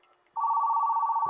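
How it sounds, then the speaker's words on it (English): A telephone plugged into a homelab caller ID device rings with a steady, loud electronic tone that starts abruptly after a brief quiet moment and holds to the end. "the phone that is ringing and plugged into the caller ID thing"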